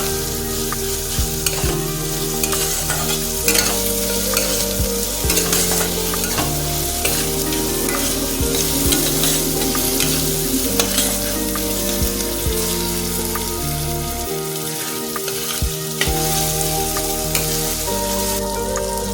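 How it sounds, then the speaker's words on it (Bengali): Tomatoes and onions fry in a pan with a continuous loud sizzle while a utensil stirs them, its scrapes and taps recurring over a steady crackling bed. "যতক্ষণ না টমেটোগুলো একটু নরম হয়ে যাচ্ছে ততক্ষণ একটু নাড়াচাড়া করতে হবে।"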